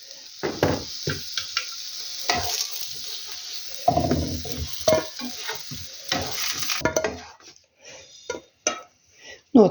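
Eggplant slices frying in oil in a pan, a loud sizzle broken by scraping and turning noises, with sputtering bursts that come and go and then taper off into sparse crackles near the end.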